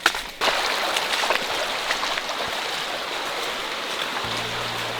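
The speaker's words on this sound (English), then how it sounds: "So now we do a bit of river crossing. It's a part of adventure. Yeah, just walking on the river to get to the entrance of the cave." Rushing river water fills the space with a loud, steady broadband wash as someone wades across toward the entrance of Son Doong cave. Faint splashes and knocks come through the flow.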